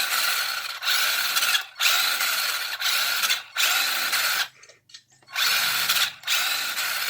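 A 1:16 scale RC car's electric motor whines steadily at full speed, cutting out in short breaks for braking and reverse, with one longer near-silent pause before the whine returns.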